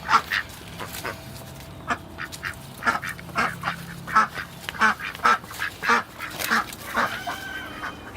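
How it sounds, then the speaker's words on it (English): Ducks quack outdoors near a garden of bonsai trees, a string of about a dozen loud nasal calls in an uneven rhythm, with no voices. "There's the ducks."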